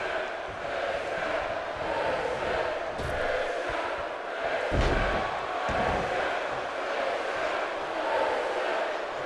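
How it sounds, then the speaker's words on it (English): A wrestling arena crowd in the WWE 2K video game, TNA Final Resolution event, roars in a sustained wash of cheering and chanting, with a few thuds and slams breaking through. "I was just listening to the crowd here really get behind Christian."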